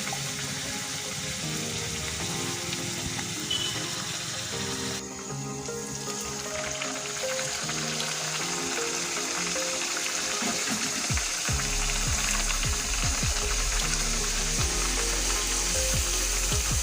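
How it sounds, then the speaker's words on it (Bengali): Green pea kachori deep-frying in hot oil, a dense continuous bubbling sizzle with a brief dip partway through and a lower, heavier frying roar near the end. "এইভাবে আমি মটরশুঁটির কচুরি ভেজে নেব।"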